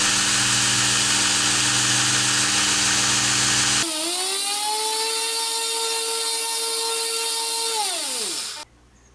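A homemade 2x72 belt sander grinder runs at high speed with a steady, loud whine and hum, then the pitch settles and drops away as the motor winds down near the end.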